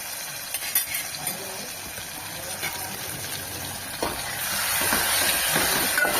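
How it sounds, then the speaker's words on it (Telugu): Green chili paste fries lightly in a pan for dal, a low continuous sizzle with faint scraping stirs. The frying grows slightly louder and hissier toward the end, with no voice over it. "లైట్గా వేయించుకుంటున్నాను"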